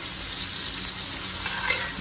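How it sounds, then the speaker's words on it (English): Steak basting in browned butter in a pan, a steady loud sizzle and crackle of frying fat heard close up with no talk. "add another tablespoon of butter to the pan. And now we tilt and baste."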